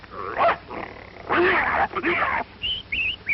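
A man in an old western film vocally imitates a dog fight, with bursts of snarls, growls and yelps broken by short pauses and rising whine-like calls at the end.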